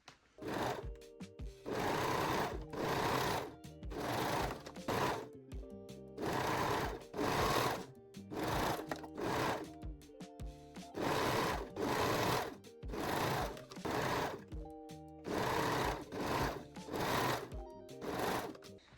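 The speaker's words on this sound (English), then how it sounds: "And sew all 4 side seams." A sewing machine stitching the side seams of a cup-based bralette runs in repeated bursts of rapid mechanical whirring, each lasting about a second, separated by short pauses, up close with no talking.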